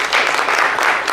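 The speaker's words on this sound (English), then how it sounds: "Big round of applause for Ron, everybody." An evening lecture audience breaks into a quick, dense round of applause that fills the whole moment at steady volume.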